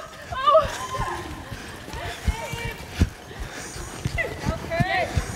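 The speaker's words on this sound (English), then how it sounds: "My horse, I think, will trot a little faster than..." Rhythmic clip-clop of a trotting horse in an arena during group horse games, hooves striking steadily at close range, while people chatter and exclaim over the hoofbeats.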